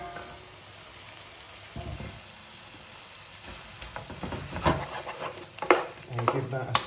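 Mangetout and chunky aubergine go into a hot pan for a vegetable bhaji stir-fry, giving soft scraping and rustling stirs with a low sizzle that grows louder and busier after the first couple of seconds.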